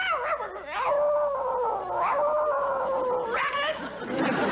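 A voice imitates a sad dog howling, with several drawn-out, wavering mournful howls rising and falling in pitch, loud and close with no other talk.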